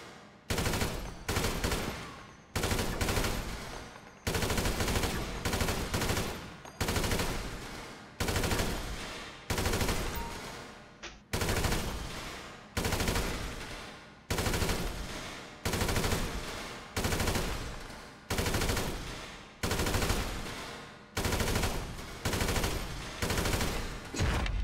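An AK rifle fires at the GTA 5 shooting range in repeated sustained full-auto bursts of roughly a second each, separated by brief pauses, loud and close, with no talking.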